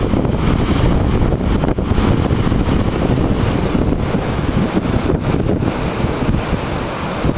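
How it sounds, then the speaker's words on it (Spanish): Strong wind on coastal sea cliffs at Lipimávida in Chile's Maule region roars loudly and continuously across the microphone, with surf blended into the dense, unbroken rush. "Corre un viento acá en los acantilados, hay que afirmarse."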